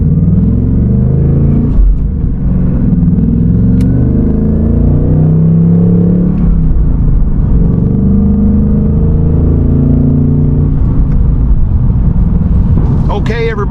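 The 2024 Ford Mustang GT Performance rumbles steadily from its engine in a deep, loud, continuous low growl, with a brief rev-like swell near the end.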